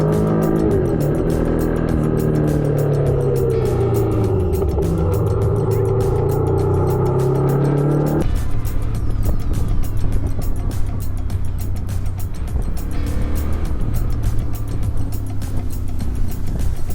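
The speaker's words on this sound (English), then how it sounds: "squeezing every last drop of juice out of that Ducati, tearing through the road like a man on a mission" A Ducati motorcycle is ridden hard along a road on Balkan trails in Albania. The engine drones loudly and continuously, with a noticeable change in pitch partway through as the rider shifts.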